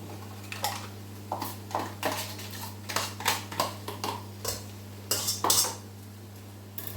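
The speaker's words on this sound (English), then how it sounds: "Give that a stir." Spoon scraping and clinking against a pot while stirring corn flour and vegan butter for a vegan French onion soup, a series of short metallic knocks and scrapes in irregular rhythm over a steady low hum, no talking.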